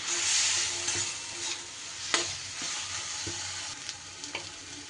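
Spice masala for a soybean curry stir-fried in oil in a pan, a steady sizzle broken by the scrape and clink of a spoon stirring against metal, close and moderately loud, with no talking.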